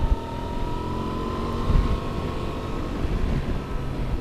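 A 2024 Honda Transalp motorcycle engine blips its revs on a downshift into third, a steady close engine drone with a brief swell near the middle, under wind rush.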